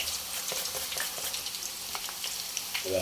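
Chip slices dropped straight into hot oil: a constant bright sizzle and bubbling, close and moderately loud, with small crackles throughout.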